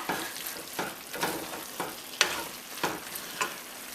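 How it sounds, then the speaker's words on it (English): Chopped tomato stirred into a pan of Jamaican callaloo with saltfish and green bananas, steady sizzling with repeated scraping spoon strokes about every half second, close and clear. "I'm going to add that chopped tomato in there now and give that a nice stir."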